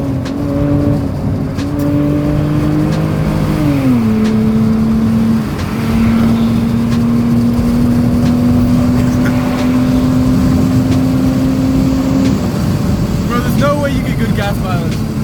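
A Hyundai Tiburon's exhaust drones loud and close as the car accelerates, engine pitch climbing through gears with a shift dip, while people talk over it inside the car.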